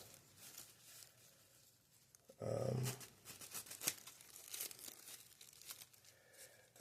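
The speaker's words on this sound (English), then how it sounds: "a plastic bag." A plastic bag crinkles and rustles close up in one loud burst, followed by quieter scattered crackles and handling noises.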